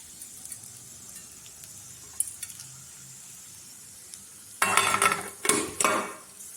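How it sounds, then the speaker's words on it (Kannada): Whole spices for a tempering hit hot oil in a pan that already holds frying peanuts, giving a sudden loud sizzling burst after a quiet stretch of faint kitchen clatter, with a second crackling surge just after. "ಇವಾಗ ಒಗ್ಗರಣೆ ಸಾಮಾನು ಹಾಕ್ತೀನಿ"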